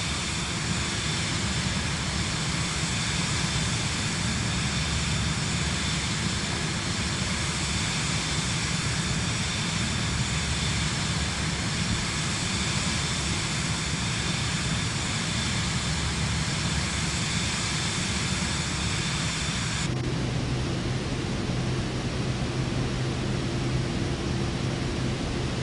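Steady, loud roar of Boeing airliner engines in Microsoft Flight Simulator 2024, a continuous broadband rumble and hiss that holds constant throughout, with a slight tonal shift near the end and no talking.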